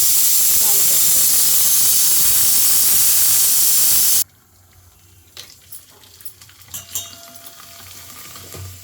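Papads deep-frying in hot oil give a loud, dense hiss and sizzle for about four seconds, then cut off abruptly, leaving quiet clatter and light handling sounds.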